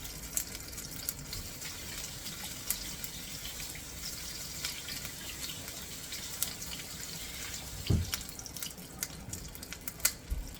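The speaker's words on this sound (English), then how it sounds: "Let me wash my hands real quick." Running tap water pours steadily into a kitchen sink while hands are washed, a soft continuous splash with a few louder drips near the end and no talking.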